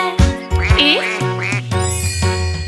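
A series of nasal, pitch-bending quacks, likely a voice imitating a duck, over a light musical backing with steady tones.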